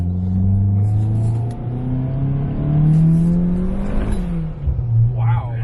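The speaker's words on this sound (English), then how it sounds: "After a certain RPM, the car just wants to go." Turbocharged all-wheel-drive Honda Element with a B-series engine accelerating hard from inside the cabin, a loud rising engine drone climbing through the revs, then a brief dip and turbo whoosh near the end, with occasional voices.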